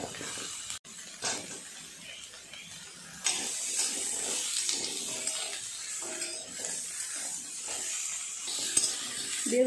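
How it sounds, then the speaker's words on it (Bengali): Eggplant and potato pieces fry quietly in oil, giving a soft, steady sizzle with occasional light clinks of a utensil against the pan. "বেগুন আর আলু ভালো করে ভেজে নিয়েছি"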